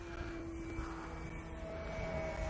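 A radio-controlled model airplane flies at about quarter throttle, its small engine giving a steady, faint, distant drone with a thin sustained whine and no breaks throughout.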